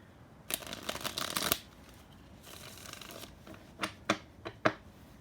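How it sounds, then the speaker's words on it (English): Tarot cards shuffled up close, a long riffle of papery rustling followed by a softer second run and then several crisp separate slaps as the cards are cut and flipped, with no talk. "shuffle up these tarot cards"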